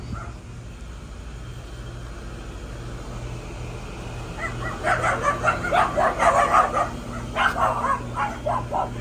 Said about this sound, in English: Don't mind the dog, this dog's gonna start barking.